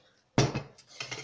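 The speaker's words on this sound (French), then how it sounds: "Donc on va mettre 2 belles cuillères de pain" A spoon drops soft bread into chick feed in a bowl, giving two close clinking, scraping knocks, the first sharper than the second, with no talk.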